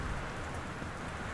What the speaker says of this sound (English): looks like it's raining outside